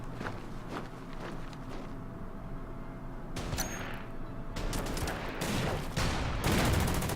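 Gunfire rattles as a Lee tank attacks a Panzer IV in the war video game Order of Battle, a busy mix of scattered shots and bursts over a rumbling background, building louder toward the end, with no speech.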